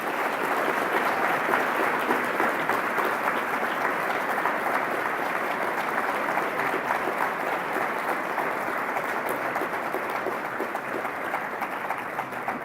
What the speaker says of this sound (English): A clap for Julianne.